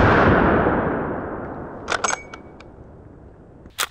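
.44 Magnum revolver firing on a shooting range: one loud boom decaying into a long rolling echo, followed by faint metallic clicks and a sharp handling click at the end, no speech.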